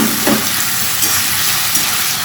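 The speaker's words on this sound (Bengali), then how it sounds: "বড়িগুলো ভাজা হয়ে গেছে, এবার হালকা তেল দিয়ে এটাকে ভেজে নেব।" Steady sizzling of fried lentil dumplings in a little oil, a continuous close hiss with faint crackles and no voices.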